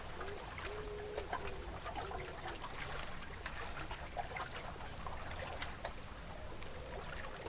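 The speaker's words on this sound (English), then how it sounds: "You become aware of the sounds of the waves against the boat again." Soft water laps and trickles against a wooden boat, a faint, continuous gentle sloshing with small irregular splashes.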